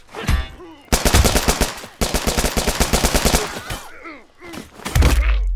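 Bursts of rapid automatic gunfire from the survival video game The Culling crackle in two long loud volleys, followed by scattered single shots and thumps in a close, dense exchange.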